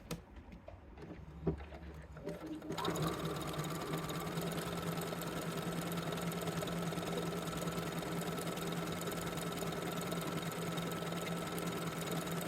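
A sewing machine fitted with a fringe or looper foot starts up after a few handling clicks and stitches continuously, a steady rapid mechanical whirring and chatter that stays close and even, without talking.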